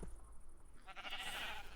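Sheep in the video game Ancient Kingdoms, being herded into pens, let out a soft bleat that starts about halfway through and trails off quietly.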